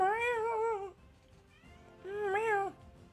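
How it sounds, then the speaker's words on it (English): A cat meows twice from across a room, each call long and rising then falling, with a pause between them and no talk over it. "My cat is on the other side of the room meowing at me right now."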